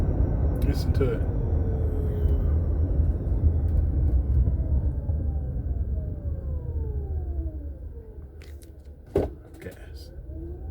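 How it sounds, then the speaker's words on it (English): Car brakes whining as the vehicle slows, a thin gliding tone sweeping down over a steady low road rumble, with a sharp clunk near the end. "Brakes is wild. Got a whining noise."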